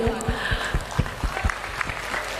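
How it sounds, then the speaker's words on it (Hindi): A crowd claps at a Hindu unity march, a spread of fairly close hand claps that lasts a couple of seconds over a busy outdoor background. "तो आप लोगों को भी मैं ताली मारती हूँ।"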